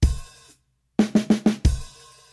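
Snare drum playing a quick 16th-note figure of four sharp hits, then a hi-hat stroke, after an opening hit and a short silence. Loud, close and dry, with no voices.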